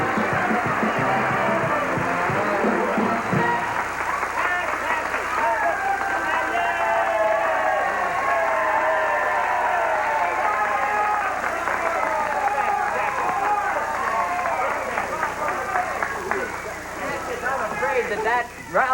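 A TV game-show studio audience applauds and cheers for a performer, a dense, loud and sustained wall of clapping with a crowd roar that keeps going for the full stretch, under murmured voices, then eases slightly at the very end.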